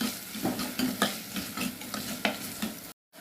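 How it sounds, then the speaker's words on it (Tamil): Tomatoes and garlic sauté in a pan for a fish curry, with a steady sizzle and repeated stirring scrapes close by; the sound cuts to silence at the very end. "தக்காளி கூட சேர்த்துக்கோங்க இப்போ தக்காளி வதங்க மட்டும் இதுக்கு கொஞ்சமாக உப்பு போட்டுக்கோங்க"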